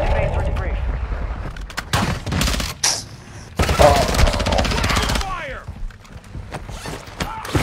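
Video game MP7 submachine gun firing in rapid bursts, loud and close, with a player talking over and between the shots.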